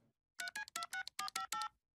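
A cartoon telephone being dialed for a prank call: a quick run of seven distinct electronic keypad tones in uneven rhythm, close and clear, with no talk.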